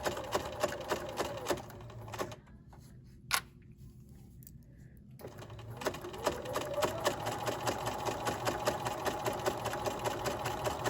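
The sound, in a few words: sewing machine topstitching fabric to the edge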